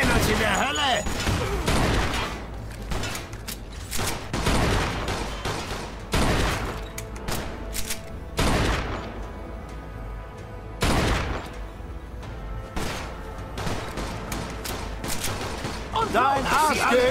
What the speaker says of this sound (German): Los, wir geben dir Feuerschutz.